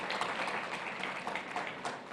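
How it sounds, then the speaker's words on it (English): Audience at an Africa Prosperity Dialogues conference session applauding the President of the West African Development Bank, a steady, moderately distant patter of many hands clapping for about two seconds. "A round of applause for him, ladies and gentlemen."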